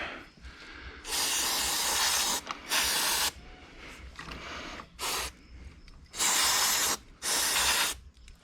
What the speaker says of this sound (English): spray the oil off of that little wiring harness